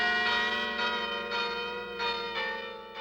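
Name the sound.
bells ringing in a bell tower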